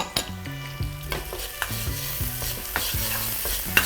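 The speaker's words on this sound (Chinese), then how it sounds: "下入蒜瓣、姜片和这个小米辣、葱段以及小洋葱，给它炒香" Garlic cloves, ginger slices, bird's eye chili, scallion pieces and small shallots are tossed with braised meat in a hot wok, giving a crackling sizzle and rhythmic metal spatula clanks, close up and without talk.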